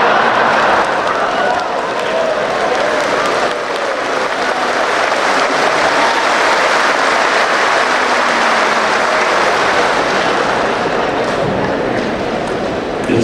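A large assembly at an Indonesian election commission national meeting gives sustained applause in a big hall, a dense, even roar of clapping that continues without a break, with occasional voices in the crowd.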